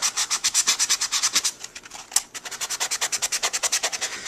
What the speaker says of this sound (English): If you use a really gritty sandpaper, it goes a lot faster than what I'm doing.